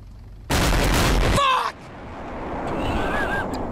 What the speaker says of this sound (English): Hey, Tyler, want to make a boiler explosion?